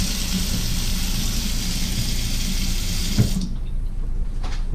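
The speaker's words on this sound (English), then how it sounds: "a sink with hot and cold running water" Water runs steadily from a faucet into a hotel suite kitchen sink, a loud continuous splashing hiss that cuts off abruptly near the end, leaving quiet room tone.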